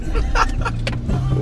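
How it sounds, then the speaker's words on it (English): A car engine being started, with a steady low motor hum and brief mechanical whirring under faint background voices. "Step one, turn the car on."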